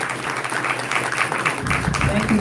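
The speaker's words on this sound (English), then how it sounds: "let's give her and Sheila, she's not here, a round of applause" An audience at a public meeting gives a round of applause, a steady patter of many hands clapping at moderate volume, with voices talking over it.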